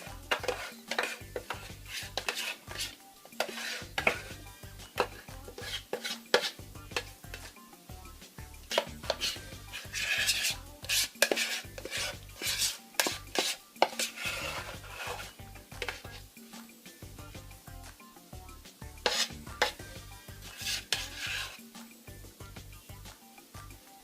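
Homemade vanilla cinnamon ice cream is scraped and scooped from a metal container into another container, making repeated close scraping and clinking strokes in an irregular rhythm with no talk.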